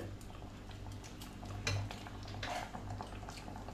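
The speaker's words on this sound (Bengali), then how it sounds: "এটাকে একটু ফুটে ওঠা পর্যন্ত নাড়াচাড়া করতে হবে" A spoon scrapes and taps against a pan of palak paneer as it is stirred toward a boil; soft, scattered clinks over a low steady hum, fairly quiet and close.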